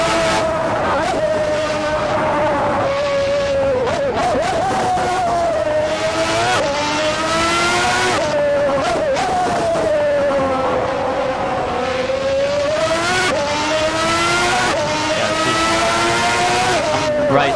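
Race car pushed to the limit in Assetto Corsa, a loud continuous high-revving engine whine rising and dropping through gear changes and corners, with someone talking over it.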